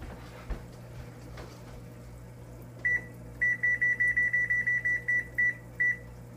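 A series of short electronic beeps from a timer being set, quick button chirps in an uneven run over a low background hum.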